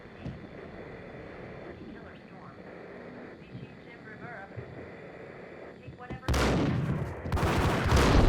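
Shotgun blasts in the PC game Max Payne (2001), a couple of loud heavy booms bursting out near the end after a stretch of quieter game sound.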